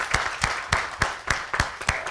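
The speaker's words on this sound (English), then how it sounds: "So big applause to the guys on the panel." An audience applauds a panel at the close of an industry event, with close, distinct claps at a rhythm of about three or four per second and no talking over them.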